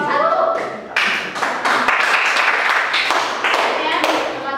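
A classroom of students applauds a presenting group during a microteaching practice lesson: brisk, close clapping from many hands with some taps and thumps, and voices underneath.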